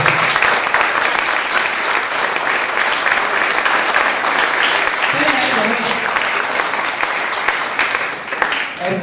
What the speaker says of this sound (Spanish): quiero pedir un aplauso por ello